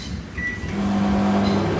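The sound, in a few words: microwave oven heating two tortillas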